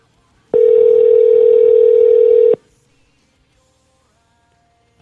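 A single steady electronic phone tone plays for about two seconds while calling a spoof Google number, loud and clean, then cuts off into near silence.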